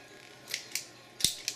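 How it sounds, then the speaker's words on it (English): Scissors cutting through an LED PC fan cable, a few sharp close snips in quick irregular succession, one heavier crunch among them, with no talking. "So cut off with scissors or whatever."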